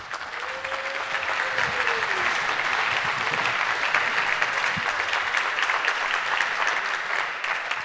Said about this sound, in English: Give him a welcoming, warm applause.